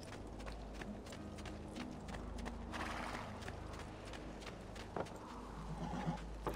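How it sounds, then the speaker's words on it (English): Horse hooves clip-clop in the Assassin's Creed II video game, a soft, steady trot set low under a constant ambient game bed with no talk. "Let's get a horsey."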